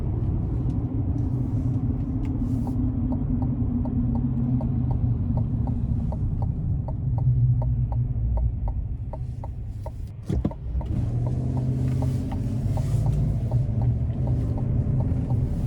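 A 2025 GMC Sierra 1500 AT4X pickup with a 6.2-liter V8 gives a steady, deep rumble from inside the cab as it drives. The drone dips briefly partway through, then picks back up.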